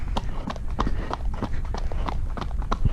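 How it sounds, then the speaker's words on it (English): A young horse moving at a steady gait, hooves clip-clopping in a quick, even rhythm, close and clear throughout. "she's an absolute lovely horse"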